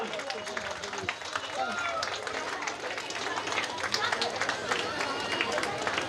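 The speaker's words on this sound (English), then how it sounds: "keep clapping there boys, keep clapping for seniors," An audience claps for seniors at a school winter carnival, dense and continuous applause with crowd noise, and voices talk over it.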